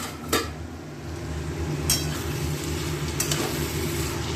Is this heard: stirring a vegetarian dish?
yes